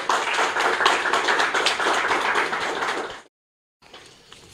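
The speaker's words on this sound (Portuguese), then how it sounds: "peço uma salva de palmas," Audience applause for a professor at a lecture on medieval rhetoric: dense, steady clapping from a crowd for about three seconds, then a sudden cutoff followed by faint room noise.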